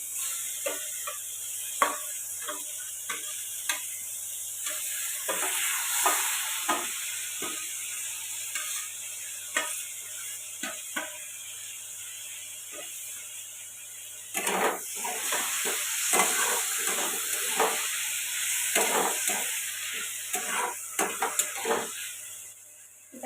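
Tomato with cumin and coriander powder frying in a pan with potato and onion for a fish-roe fritter curry, a steady sizzle broken by repeated scraping stirs, close and alone, with a busier stretch of stirring midway.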